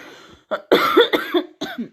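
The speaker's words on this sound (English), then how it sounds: "This mysterious coughing is really strange" Several sharp, harsh coughs close to the microphone, coming in short bursts with brief pauses between them.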